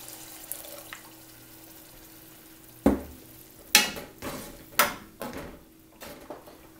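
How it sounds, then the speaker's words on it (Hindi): Water tipped into a pot of prawn masala curry, a brief splash followed by several sharp stirring clatters and bubbling sizzles, fairly close, with no talk. "अब इसमें हम 1 कप पानी डालेंगे,"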